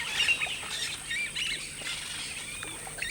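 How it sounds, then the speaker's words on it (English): Yellow-rumped caciques sing near their hanging nests in a jaguar habitat, giving a steady mix of chirps, whistles and chattering calls over a light background hiss, moderately close, with no talk. "There's birds singing at the top of nests to their mates below."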